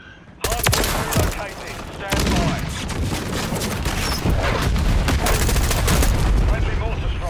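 Heavy Call of Duty gunfire: dense, continuous bursts of rapid shots and impacts stacked over one another, loud and close throughout, with occasional heavier booms mixed in.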